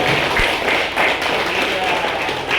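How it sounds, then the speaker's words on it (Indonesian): A group in a classroom claps for a presenting group, a short, close burst of scattered hand claps with uneven rhythm. "tepuk tangan dulu untuk kelompok"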